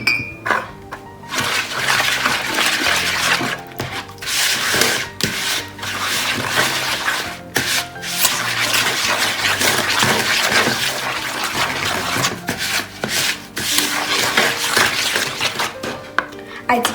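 A spoon or whisk stirs vanilla kulich batter in a bowl after eggs go in, giving a steady, loud, continuous scraping and clinking against the bowl with short breaks in the rhythm.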